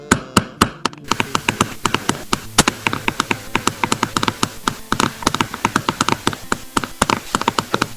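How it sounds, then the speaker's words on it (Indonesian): A pencil tapped in a steady rhythmic beat during a third-grade online class, producing many close, crisp, evenly spaced clicks that run continuously with no voices. "Kita menggunakan ketukan pakai pensil saja sudah bisa menghasilkan suara yang bagus."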